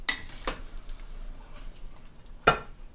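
A spoon stirs striped bass head soup in a pot, giving a few sharp metallic clinks against the side, spaced apart, with quiet gaps between them.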